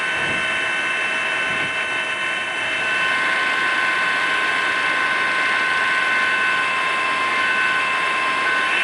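Rescue helicopter hovering low over a house on the day after a major earthquake while a survivor is winched up by rope, a loud continuous whining rotor and turbine drone that holds steady throughout and swells slightly midway.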